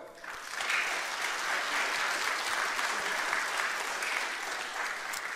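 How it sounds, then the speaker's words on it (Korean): Sustained applause from a large church congregation, steady and fairly loud, swelling in quickly and continuing without a break. "한번 감사 박수 할까요?"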